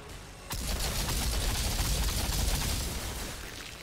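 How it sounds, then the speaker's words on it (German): Freezing gunshots in the video game Outriders: a sudden onset of dense, rapid automatic fire that keeps up as a continuous loud rattling burst for about three seconds before tailing off. "Und volle Kanne, gefrierende Schüsse."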